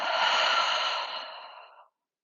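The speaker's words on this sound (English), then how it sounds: "Take the deepest breath you've taken today in through the nose. Pause at the top and exhale out the mouth." One long, deep breath released out through the mouth after a slow inhale through the nose during a restorative yoga session, a soft airy rush that gradually fades to silence.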